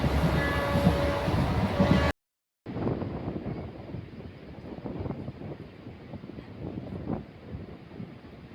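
A passenger special train running from Coimbatore to Madurai, near Pollachi, gives a steady rumbling roar with rhythmic wheel knocks and wind. It stops briefly, then resumes continuously at close range.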